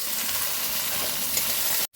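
Ginger, garlic and chopped tomatoes fry loudly in spice paste in a pan, a dense steady sizzle with faint stirring that cuts off abruptly near the end.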